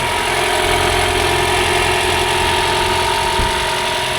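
A used car's engine idles steadily under an open hood, a close, continuous mechanical hum and rumble with a faint rhythmic vibration and no change in pace throughout.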